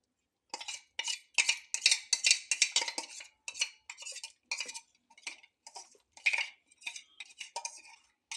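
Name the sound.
pouring and stirring gram flour mixture into mango stew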